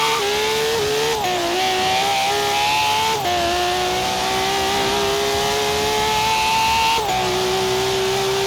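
A Nissan R33 GTR engine in Forza Horizon 3, held at a loud, high, steady scream that climbs gradually, with brief dips at each gear change, alone without talk.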